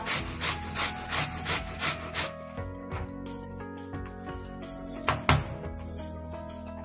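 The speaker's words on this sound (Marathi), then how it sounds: "ह्या कैऱ्या किसून घेताना तुम्ही तुमच्या आवडीनुसार लहान साईज मोठ्या आकाराची किसणी घेऊ शकता." Raw mangoes rubbed against a metal grater by hand, giving a steady series of rhythmic rasping scrapes that slow and thin out partway through before a few closer, louder strokes near the end.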